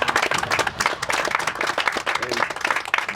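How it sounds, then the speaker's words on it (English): A crowd applauds with dense, steady clapping from many hands, sustained and fairly close throughout. "some round of applause for Frank."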